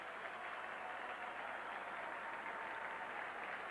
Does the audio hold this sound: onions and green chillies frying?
no